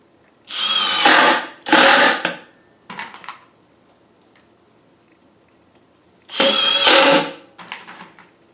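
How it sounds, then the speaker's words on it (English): Power drill driving drywall screws into a shop storage cabinet: two loud whirring bursts close together, a short softer burst, a pause, then another loud burst with a brief tail, no talk. "Now I'm using drywall screws."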